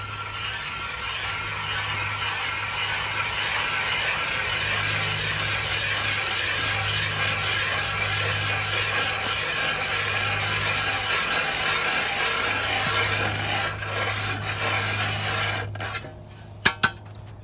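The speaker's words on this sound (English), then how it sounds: "So I'm gonna drill a hole through." A hand ice drill grinds through pond ice, a continuous harsh rasping scrape with a steady low hum, running evenly before breaking off into a few sharp knocks at the end.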